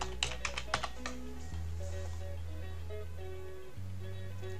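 A burst of quick keystrokes on a computer keyboard, typing a word into an Excel spreadsheet, clicks clustered in the first second over a steady musical background, then no further typing.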